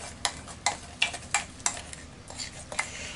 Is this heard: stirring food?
yes